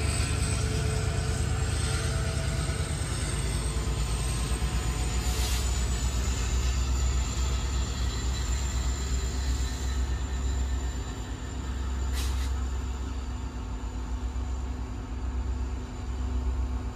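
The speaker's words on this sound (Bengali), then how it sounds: "কাম করতে করতে কামের টাইমে একটা ট্রেন এসে পড়ছে" A long train rolls past near an excavator work site, giving a loud, steady low rumble of wheels and wagons that continues for the whole stretch with no voices.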